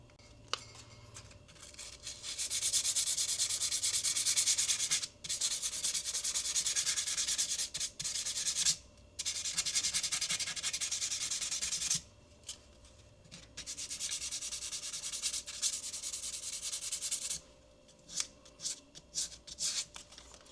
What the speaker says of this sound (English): We're gonna go from 600 all the way up to 2000 grit sandpaper.